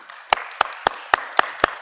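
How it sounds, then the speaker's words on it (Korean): Clapping at a Sunday worship service in a church: six sharp, evenly spaced claps in a steady rhythm, close and clear against a quiet background. "우리 한번 박수를 좀 해드립니다"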